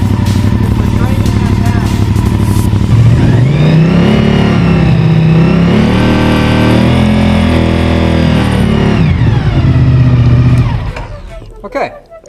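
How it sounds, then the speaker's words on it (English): A motorcycle engine starts and runs steadily and loudly at close range, rising and falling in pitch with revs for about ten seconds before cutting out abruptly, with a voice speaking over it. "We'll fire up the bike."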